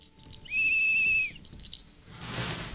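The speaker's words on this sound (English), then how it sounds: "Should I blow this whistle?" A small whistle is blown once in the adventure RPG Bloomtown: A Different Story, a steady clear tone held for under a second, loud and alone, followed by a soft rushing noise.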